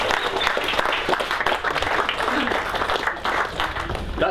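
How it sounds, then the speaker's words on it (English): A small outdoor audience at an archaeological dig applauds, with steady, dense clapping at moderate loudness and a few voices faintly mixed in. "I think he deserves a small round of applause"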